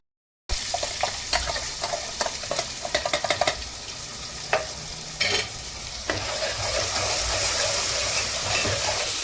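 Close sizzling and crackling of onions frying in oil for Chettinad chicken fry, with sharp stirring scrapes early on, settling into a steady hiss.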